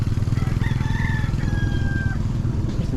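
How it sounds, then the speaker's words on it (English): Out in rural Bohol in the Philippines, a rooster crows loudly nearby amid chicken clucks, against a steady low rumbling background. "There's some chickens."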